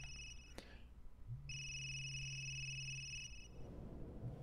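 A phone rings in Resident Evil Village, two bright electronic trill bursts separated by a pause, clear and close over a low, quiet game ambience.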